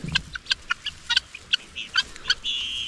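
Chickens on a Filipino farm cluck and chirp in short, irregular bursts, some calls fairly close, with a steadier higher call near the end over a light outdoor background.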